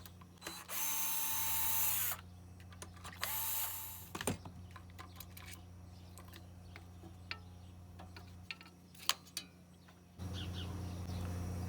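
A power drill runs in short bursts while removing 10 mm bolts from a lawnmower ignition coil, with two longer whirring runs early, then scattered clicks and ticks of the tool and bolts, ending in a steady hum.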